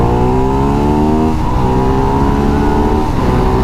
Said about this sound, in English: This bike will get you up to the speed limit so fast.